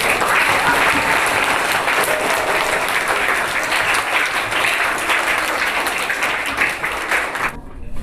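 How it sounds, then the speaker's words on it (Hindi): An audience claps steadily at a school farewell and honour ceremony for a retiring teacher, continuous dense applause that stays loud throughout and cuts off sharply at the end. "ताली बजाइए।"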